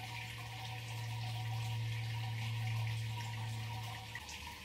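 Hot sparge water poured by hand from a jug during a homebrew pale ale brew day with a Brewzilla 65L, a steady, faint splashing trickle with a low hum underneath, no talking.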